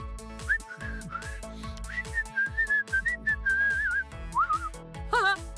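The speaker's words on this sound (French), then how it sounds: "Whistle, siffler en anglais commence par la lettre W." A person whistles a bright, wandering tune up close, with rhythmic low plucked accompaniment underneath and a few quick warbling notes at the end.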